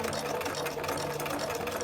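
A sewing machine stitches steadily along piping on a giant beach bag, a continuous fast mechanical whir at low volume with no break.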